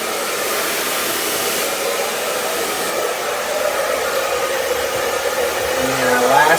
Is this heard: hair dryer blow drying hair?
yes